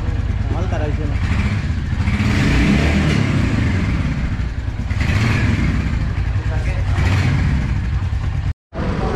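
A new Royal Enfield Hunter 350 motorcycle revs and pulls away, its engine rising and falling in loud surges up close while people talk over it, then a brief cut to silence near the end.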